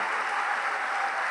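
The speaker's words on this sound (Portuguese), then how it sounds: "Aplaude e glorifica, continua, continua, não pare, continua." Crowd at a Rio de Janeiro worship gathering applauding, a dense, even wash of clapping that holds steady throughout without a break.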